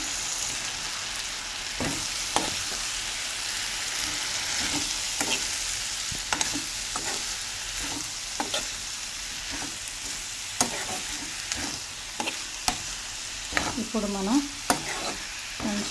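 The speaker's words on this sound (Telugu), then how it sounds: "కారంకి బదులు నేను పచ్చిమిర్చి ఒక నాలుగైదు అలాగే టమాటా ముక్కలు అనేవి వేసేస్తున్నాను" Ivy gourd curry with green chillies and tomato pieces frying in a pan, a steady loud sizzle broken by repeated scraping and clinking as a spoon stirs, with a few sharper pops near the end.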